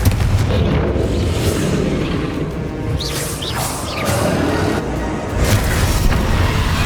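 The Confringo fire spell explodes in the Hogwarts Legacy video game during a duel. It is a loud, sustained rumbling blast with crackling bursts across several seconds.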